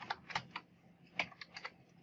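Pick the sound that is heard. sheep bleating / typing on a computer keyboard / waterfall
typing on a computer keyboard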